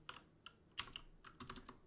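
Quick, light clicks of a computer keyboard being typed on during live online chess commentary, landing in small irregular bursts at close range and fairly quiet, with no one talking.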